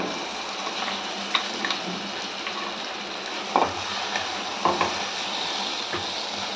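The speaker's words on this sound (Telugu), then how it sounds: "కరివేపాకు, ఎండుమిర్చి, ఆవాలు, తాలింపు దినుసులు అన్నీ ఫ్రై అవ్వాలి." Curry leaves, dried red chillies and mustard seeds sizzle in hot oil as a tempering for coconut chutney, a steady crackling fry with a few sharper pops and stirring clinks, close and continuous, with no talk.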